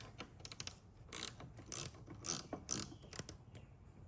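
A 10 mm ratchet loosens a car battery terminal, giving quiet close clicks and short bursts of ratcheting at an uneven pace with no talking.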